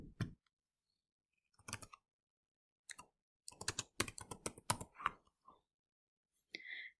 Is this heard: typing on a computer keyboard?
yes